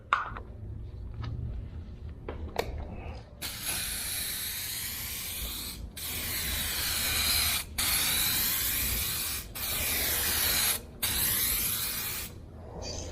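An aerosol can sprays a coating onto a car headlight in several long hissing bursts with brief pauses between them, loud and close, after some quiet handling noises at the start.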